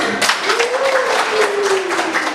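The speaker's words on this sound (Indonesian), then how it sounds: "Boleh kasih aplaus untuk temannya" A classroom of students applauds a classmate, a dense, steady burst of many hands clapping at close range throughout, with a brief voice rising over the noise.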